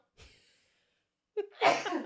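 A single sneeze from a person during a casual podcast conversation, with a faint breath before it and then a sharp, loud burst, close to the microphone.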